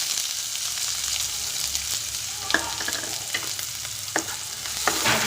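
Chopped onion and cumin sizzle and fry in a pan, a steady crackling hiss with occasional sharper pops and stirring clatters throughout, close and moderately loud, no talking.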